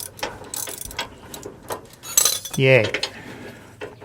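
A ratchet wrench clicks briefly while fastening rear stabilizer link hardware on a GM SUV (Chevy, GMC, Cadillac Suburban, Tahoe, Yukon), a short rapid burst of pawl clicks among tool clatter, with a brief voice exclaiming.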